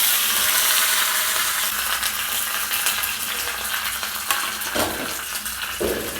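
Curry leaves and dried red chillies sizzle in hot oil for an idli sambar tempering, a steady close broadband frying hiss with a few faint clinks and stirring sounds and no talk.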